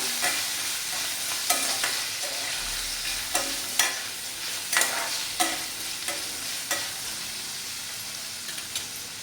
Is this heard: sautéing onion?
yes